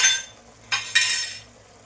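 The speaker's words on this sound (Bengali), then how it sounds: "এবার পনিরগুলো দিয়ে অল্প একটু জল দিয়ে দেবো," A little water hits a hot pan of fried paneer with a faint clink, setting off brief hissing sizzle bursts that fade within about a second.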